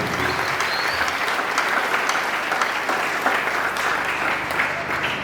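A church congregation applauds at a sermon, steady dense clapping with a crowd murmur that keeps going from start to finish, fairly loud and close.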